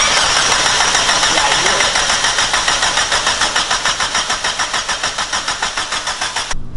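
A car engine cranks on its first start attempt with fuel already in the cylinders, giving a steady, loud, rapid starter-motor rhythm that runs for several seconds before cutting off, with no talk over it.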